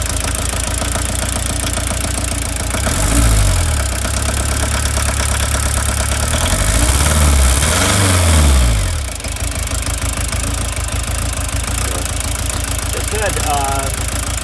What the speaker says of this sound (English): It has the typical nice diesel sound here.